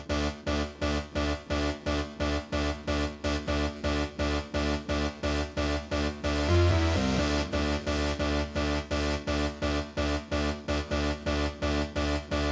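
A keyboard pounds out a fast, steady pattern of repeated chords over a bass line, with a brief swell partway through before the rhythm carries on.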